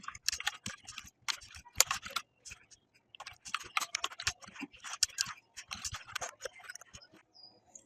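Quick bursts of typing on a computer keyboard, with clustered key clicks, short pauses and a close, dry sound, as a prompt is entered.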